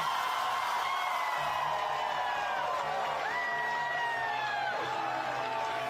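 A large crowd cheers and whoops at Premier Peter Malinauskas's South Australian election victory, a steady dense roar with scattered shouts throughout.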